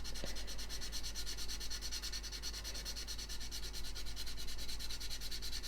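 Fast, rhythmic sanding strokes rasp back and forth continuously over a repair area on a scale model, close up and steady, with a low constant hum underneath.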